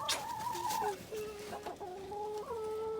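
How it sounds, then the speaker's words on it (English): Several hens clucking in a clean backyard chicken coop, close and steady, with overlapping drawn-out calls and short clucks, no talking. "Look here. Chickens!"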